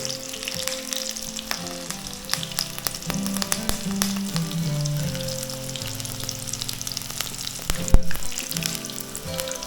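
Chilli, brinjal and onion bajji fry in hot oil with a dense, crackling sizzle, close and continuous, with occasional clinks of a utensil and no talking.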